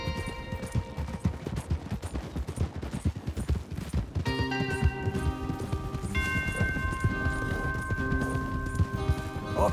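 Galloping horses in Red Dead Redemption 2 pound out rapid, dense hoofbeats close by, mixed with sharp game effects, while a sustained musical score swells in partway through.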